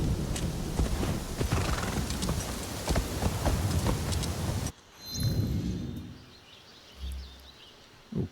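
In the video game Assassin's Creed Shadows, hooves clip-clop in a steady walking rhythm through a forest over dense ambient noise, then the scene quiets and a horse snorts and neighs nearby.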